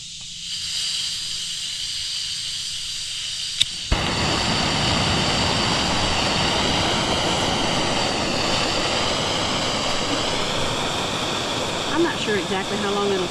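A small fire burns around an Altoids tin being cooked into char cloth, giving a steady, loud roaring hiss that starts abruptly after a faint quiet stretch and continues without pause.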